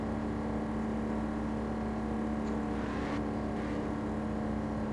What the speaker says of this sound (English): That guy's speeding.